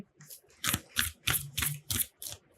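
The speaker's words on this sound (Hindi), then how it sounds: "One more shuffle." Tarot cards shuffled by hand in a steady run of six or seven crisp riffling bursts, each a papery flutter roughly a third of a second apart, close and fairly quiet with no voice over it.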